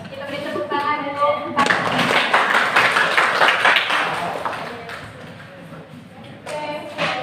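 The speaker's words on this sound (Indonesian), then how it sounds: "silakan kita beri tepuk tangan dulu" A room full of people claps in applause for several seconds, loud and close, with talking before and after.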